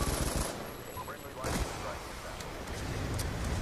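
Light machine gun fire in Black Ops 2, a dense burst of rapid shots opening the moment, then broken bursts of gunfire mixed with game noise and chatter.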